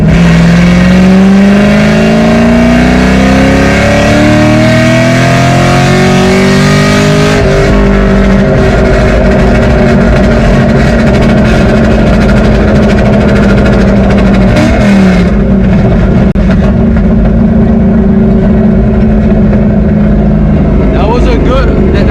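A Ford 3V Mustang GT fitted with a Paxton Novi supercharger pulls hard through the gears toward redline, the loud engine note climbing, dropping at a shift, then climbing again, with a voice talking over it.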